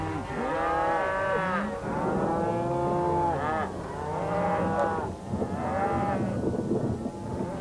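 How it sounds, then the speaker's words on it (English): Cattle being driven up to summer pasture, several loud drawn-out moos overlapping one another in close succession, rising and falling over a low rumbling background. "The cattle are driven up to their summer pasture."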